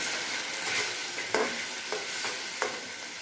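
Boiled red amaranth greens sizzle in a pan as they are stirred, a constant hiss broken by three or four short scrapes of the spatula, close and fairly quiet.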